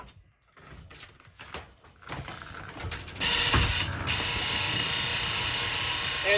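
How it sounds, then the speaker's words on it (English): A slow roll tumbler loaded with sawdust for tanning caribou hides starts up with clicks and rattles, then settles into a steady, loud mechanical whir and rumble. "And it's a slow roll tumbler."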